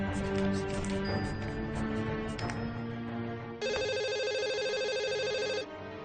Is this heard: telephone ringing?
yes